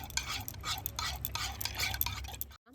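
A spoon stirs vinegar into warm milk in a bowl for an eggless black forest cake, giving a steady run of soft scraping and clinking strokes up close, then falling abruptly silent at the end.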